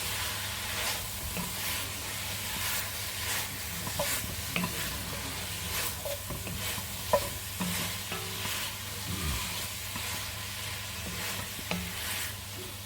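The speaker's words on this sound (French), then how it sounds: "nous allons tout bien mélanger." Veal blanquette ingredients with thyme being stirred in a pan, a steady soft scraping and gentle sizzle with scattered clinks of the utensil against the pan, close and fairly quiet with no talk.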